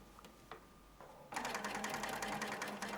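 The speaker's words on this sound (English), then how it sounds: "stitch in the ditch from the right side" A sewing machine stitches in the ditch on harem pants, starting after a few light ticks and then running in a steady, close, rapid mechanical whir.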